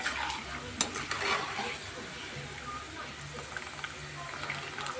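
Dough balls fry in a pan with a steady, close sizzle and hiss, broken by occasional stirring clinks, while a voice is faintly present at times.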